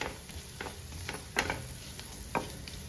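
Turmeric and Kashmiri chilli powder are stirred into sautéed onions in a pan, a quiet sizzle broken by a few soft spoon scrapes spaced out over a few seconds.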